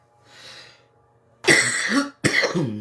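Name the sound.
cough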